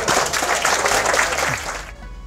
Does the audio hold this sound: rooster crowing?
no